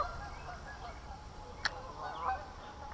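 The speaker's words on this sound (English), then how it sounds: "So they're all flipping out in the center where all these geese are landing" Geese on a lake give faint honks at a distance, a few scattered calls over a low outdoor rumble.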